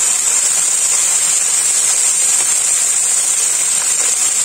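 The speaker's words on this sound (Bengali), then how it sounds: "আগে চিংড়ি মাছগুলোকে ভাজছি," Steady, loud hiss of shrimp frying in hot oil, a continuous bright sizzle with no breaks and no voices.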